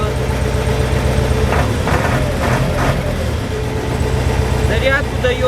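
An LTZ tractor engine runs with a loud, steady low rumble throughout, while a voice talks briefly over it.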